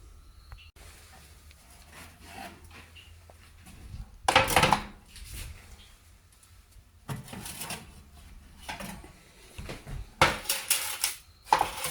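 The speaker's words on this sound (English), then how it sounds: "Tap the bread" Freshly baked homemade bread tapped lightly to test doneness, giving a few sharp knocks in clusters around 4.5, 7.5 and 10.5 seconds against a quiet room background, with no voices.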